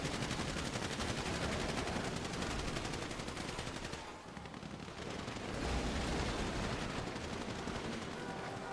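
A KVA and an MG3 machine gun fire in a video game gunfight as dense, continuous automatic bursts. The fire dips briefly midway, then resumes just as loud.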